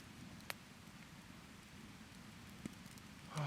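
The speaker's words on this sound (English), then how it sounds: "you can hear the creek flowing from here" A creek flowing near a rainy survival camp, heard as a steady soft rushing wash with faint occasional drips and a light rustle near the end.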